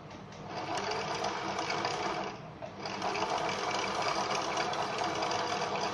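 A Singer SM-MC565 sewing machine winds thread onto its bobbin with a steady, continuous motor whir that dips briefly midway and then carries on at the same speed, with no talking over it.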